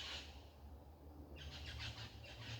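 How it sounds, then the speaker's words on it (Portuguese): Birds chirp and call outdoors in quick repeated bursts through the second half, over a low steady background rumble. "ouvir os pássaros, né?"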